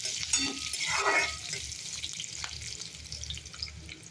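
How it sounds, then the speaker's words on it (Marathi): Curry leaves and garlic frying in a pan for Maharashtrian baingan bharta: a steady hiss of sizzling oil with a brief louder crackle near the start, close and with no talk. "कढीपत्ता आणि लसूण ॲड केलेला आहे. व्यवस्थित परतून घ्यायचे."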